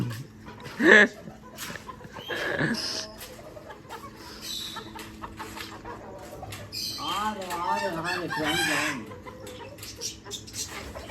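A Cochin rooster gives a loud crow and clucks nearby, with other fowl clucking and squawking, and people talking in the background.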